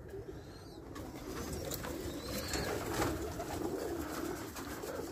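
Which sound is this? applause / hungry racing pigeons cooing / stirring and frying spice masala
hungry racing pigeons cooing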